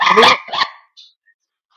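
A dog gives two quick close barks, the second shorter, followed by a faint yip, then quiet.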